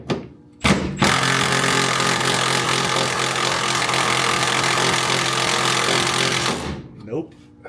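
An impact-type power tool with a socket hammers hard at a stuck subframe bolt on a 1967 Camaro, a loud continuous rattling burst of about six seconds after a brief short blip, stopping abruptly with a little talk around it.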